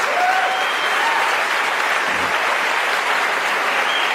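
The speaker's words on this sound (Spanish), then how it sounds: "si quieres aplaudir, no estás seco como un higo, apláudelo" A church congregation applauds steadily and loudly throughout, a dense, continuous wash of clapping from a large crowd.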